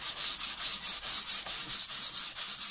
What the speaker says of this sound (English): So I'm just going to give this a good rub down, try and get rid of all this dirt and grime